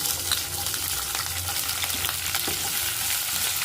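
Mustard seeds, cumin, urad and chana dal, and chopped green chillies sizzle in hot oil as the base for an okra buttermilk stew, a close, steady crackling fry with occasional stirring.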